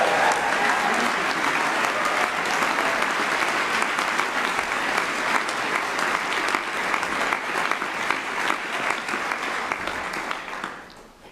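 A large audience at a music college graduation ceremony applauds and cheers for supportive parents, with dense, steady clapping that holds for about ten seconds before fading out at the end.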